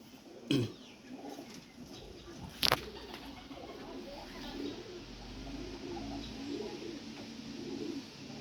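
Pakistani pigeons in a loft give soft, low cooing close by, with a couple of sharp knocks and rustles and some faint background murmur.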